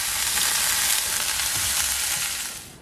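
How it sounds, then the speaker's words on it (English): Food sizzles in melted butter in a pan aboard a sailboat, a steady, close, loud crackling hiss that fades out at the end. "I'm gonna fry it up in some butter"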